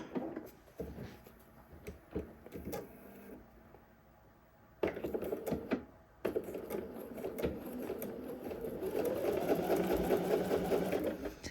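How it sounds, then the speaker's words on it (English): A sewing machine stitches a sleeve seam on a garment with gussets, its motor whirring in bursts that stop and restart, including a reverse backstitch pass, with light clicks and handling sounds between runs. "Sew up for a ways. Okay, now I'll backstitch."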